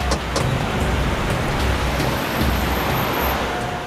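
A vehicle drives fast during a chase, heard as a dense, loud, steady roar of engine and road noise with a few sharp transient knocks near the start.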